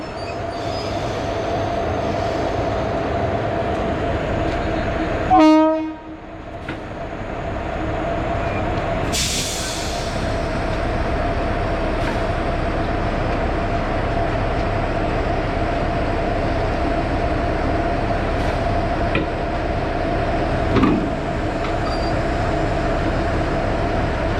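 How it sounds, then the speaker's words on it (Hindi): Locomotive coupling onto a train at an Indian railway platform, with steady rumbling rail-yard noise, a sharp metallic clank and squeal, then a burst of air hiss from the brakes. "अब यहाँ होगी इसकी कपलिंग"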